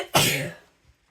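A single sharp sneeze bursts out close by indoors, loud at onset and trailing off quickly into quiet.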